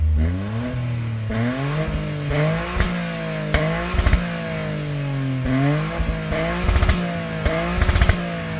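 A 2026 Toyota GR Corolla hot hatchback with a manual gearbox pulls away and accelerates hard, its engine note climbing through repeated rising sweeps with sharp gear-change dips between them, loud and close with no talk.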